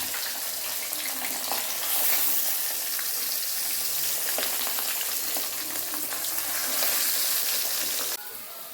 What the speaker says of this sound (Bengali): এখানটা একটু বেগুনটা ভেজে নিচ্ছি